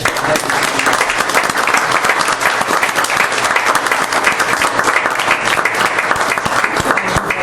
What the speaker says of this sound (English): I would ask you to give a great round of applause